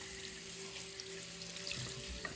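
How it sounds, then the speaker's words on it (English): Tap water runs steadily into a sink while peel-and-stitch stabilizer is rinsed out of a sweater under cold water, a continuous rushing hiss with faint splashes and no talking. "I'm in the middle of washing this peel and stitch off."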